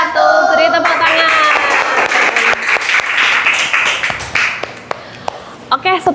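A classroom group claps together in a burst of applause, loud and dense at first and then thinning into scattered claps and a few voices toward the end.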